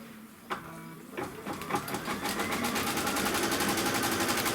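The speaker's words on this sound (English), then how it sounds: "we're going to stitch that placement line for the batting first." Sewing machine stitching a batting placement line on a quilt block with white pre-wound thread, a fast mechanical rattle that starts after a few clicks and builds into a steady, loud, rapid stitching rhythm.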